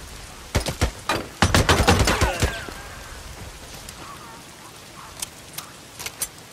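A light machine gun fires in the Days Gone video game, with several loud bursts of rapid shots up close, then scattered single distant shots.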